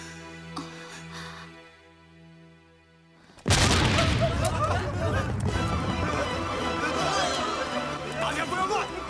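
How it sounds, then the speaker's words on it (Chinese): A sudden loud boom erupts partway through a scene in a war drama set at a Japanese army base, after a quieter stretch, followed by sustained rumbling, crowd chatter and commotion. "哪儿发生爆炸？"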